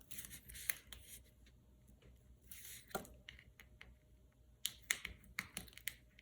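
Scissors snipping and scraping while peeling the paper backing off tape for a patchwork quilted birthday card, giving scattered crisp clicks and crinkly rustles spread over several seconds, close up.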